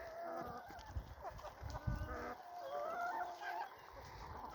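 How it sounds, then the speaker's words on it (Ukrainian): Chickens clucking and calling while grazing in a busy outdoor farmyard, several birds at moderate distance with steady background noise. "Кури пасуться."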